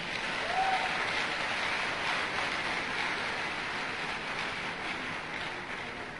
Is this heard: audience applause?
yes